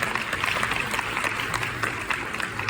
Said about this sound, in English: You just give him a big round of applause.